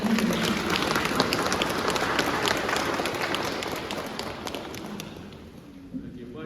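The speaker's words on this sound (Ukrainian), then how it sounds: "Подтримаем аплодисменты." Applause from a concert audience greeting a cathedral priest at a Christmas concert, many hands clapping in a dense patter that fades gradually toward the end.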